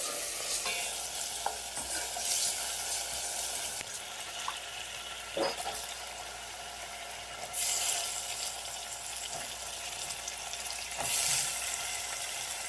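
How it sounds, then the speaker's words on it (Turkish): Garlic and potatoes fry and sizzle in a pan with steady broadband crackle, punctuated by several bursts of scraping as they are stirred, while faint running water sounds in the background. "Şimdi sarımsak koyalım ve kavuralım"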